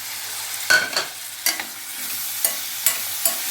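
Onion, tomato pieces, green chillies and curry leaves are stirred in a pan. A steady frying hiss runs throughout, punctuated by roughly seven crisp scraping strokes, close and clear, with no voices.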